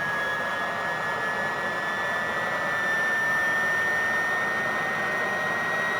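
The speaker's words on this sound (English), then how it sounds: "So the engine will continue to spool up, we'll just wait until we're through 4000 RPM." A Fouga CM.170 Magister jet engine spools up in Microsoft Flight Simulator. A loud, steady roar runs under a thin whine whose pitch climbs slowly, with no voices over it.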